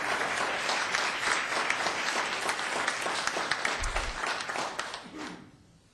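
People at a town council meeting applaud steadily in a dense, fairly loud burst of clapping that tapers off near the end.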